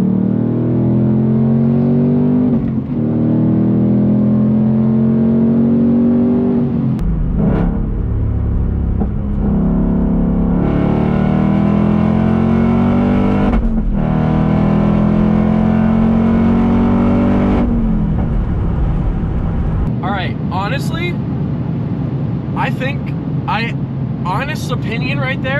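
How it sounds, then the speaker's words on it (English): A 2024 Ford Mustang Dark Horse V8 accelerating hard in third gear, a loud rising engine drone that climbs in pitch across several pulls, with someone talking over it and some clicks near the end. "So let's go ahead and slow down a little bit here, get down to third gear, and see what happens here."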